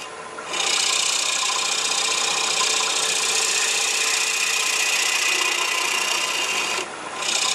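A turning tool cuts a wooden bowl spinning on a lathe, giving a steady, loud scraping whir that holds for several seconds before easing off briefly near the end.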